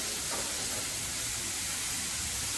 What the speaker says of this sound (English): You can hear that sizzling sound.